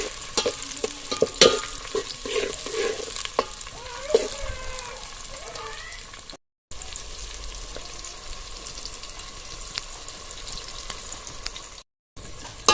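Chopped chillies, onion and a large cut tomato stir and fry in oil in a pan outdoors. A soft sizzle runs under scraping spoon strokes and clatter, with quieter stretches and brief dropouts.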